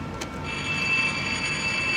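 A Soundtraxx sound decoder plays diesel locomotive sounds from an Athearn SD70ACe model sitting on the track: a steady idling rumble with a faint high whine, brief and fairly close, with no talking.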